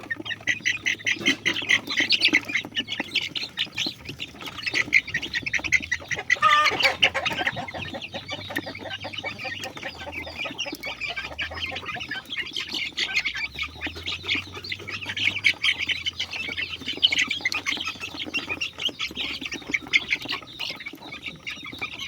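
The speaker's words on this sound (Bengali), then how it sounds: "এই যে দেখেন আমার 24 দিন বয়সের মুরগি" Many 24-day-old native (deshi) chickens squawk and cluck continuously in a dense, busy chorus while eating, close by, with no talking.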